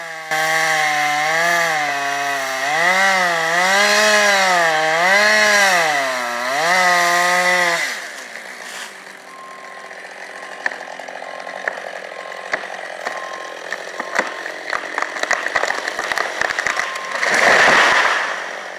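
A loud chainsaw engine revs up and down in rising and falling whines, then drops to a rough idle with scattered cracks and a final burst near the end.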